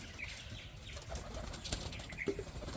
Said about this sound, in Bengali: তো দেখতে পাচ্ছ পায়রাগুলো সব এক একে বেরিয়ে যাচ্ছে বাইরের দিকে।